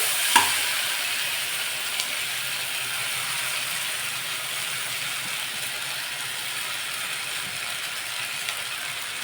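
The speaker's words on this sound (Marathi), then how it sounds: "लगेच यावरती भात टाकून घेऊ आपण" Cooked rice tossed into a hot pan for vegetable fried rice, giving a steady low sizzle with a sharp clatter of spatula against pan near the start and faint scrapes afterward; no talking.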